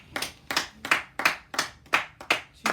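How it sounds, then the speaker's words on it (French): A church congregation clapping to acclaim the word of God: about eight sharp, close hand claps in an even, steady rhythm with brief silences between them. "On acclame pour la parole de Dieu,"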